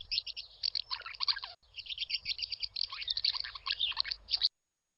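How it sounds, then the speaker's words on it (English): Birds in the King's Quest 1 video game chirp in rapid, bright bursts that repeat continuously before cutting off abruptly, with no voices. "The mother bird is feeding her young in the nest high above you."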